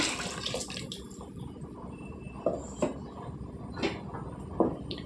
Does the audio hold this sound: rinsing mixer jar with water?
yes